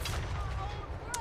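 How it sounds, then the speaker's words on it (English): Cannons fire in a Total War Warhammer 3 battle against Chosen infantry, giving a low, continuous rumbling boom across the short stretch, with a brief crack near the end. "Cannons absolutely light up the Chosen of the Gods."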